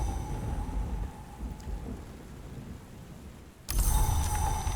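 Rain and thunderstorm ambience from the video game Book of Hours hisses steadily with low rumbling, then a louder gust of rain and thunder swells in near the end.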